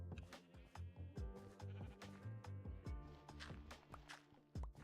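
Repeated sheep bleats in the Minecraft video game, several short wavering cries in quick succession over a busy backdrop of in-game noises and soft footsteps, fairly close and moderately loud.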